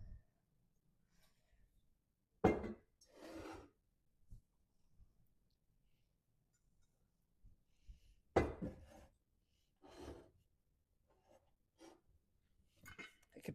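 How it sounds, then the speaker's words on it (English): Ceramic lids clink and scrape as they are fitted onto vintage teapots, a few short, close knocks separated by quiet pauses, with no speech. "I'm just inserting the lids in"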